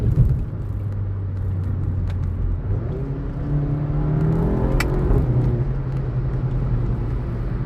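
A VW Golf 7.5 GTI with a resonator-deleted exhaust drones steadily from inside the cabin, its engine note rising and falling through gentle acceleration with a deep, constant rumble and no talk.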